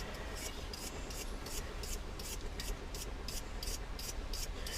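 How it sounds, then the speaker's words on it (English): A brush scrubs oil off the diodes of a Ford Ranger engine part, producing a rapid, regular rasping scrub of short repeated strokes, close and fairly quiet with no talk. "So you're just gonna brush off those diodes, the two electrical diodes and whatnot, just get everything nice and clean."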